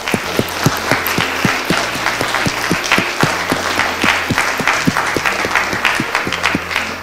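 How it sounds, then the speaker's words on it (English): A group at a hackathon opening ceremony claps together in applause, with a few sharp individual claps standing out clearly above the steady patter of hands. "So please, can we just get a round of applause for all of our sponsors?"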